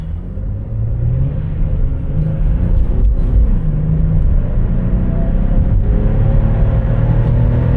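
A Chevrolet Impala engine pulls hard under heavy throttle, a loud, steady, close rumble that climbs through its shift points without pause and with no voices over it.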